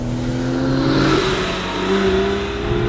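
A Porsche 911 Targa engine revs while driving in sport mode with manual shifting and traction off, a loud, close, steady drone that climbs and holds in pitch.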